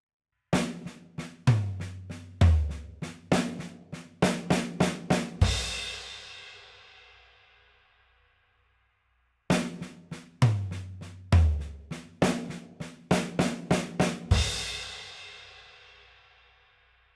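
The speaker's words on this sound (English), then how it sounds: "So now our drum fill combination is first accent snare drum," Accented drum fill across snare, rack tom and floor tom, a quick run of sharp hits ending in a crash that rings out and decays, played twice with a pause between, close and loud with no voices.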